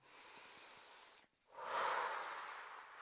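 Deep breaths are taken during a Pilates exercise, a long close airy exhale, a brief pause, then a stronger, louder rush of breath that lingers.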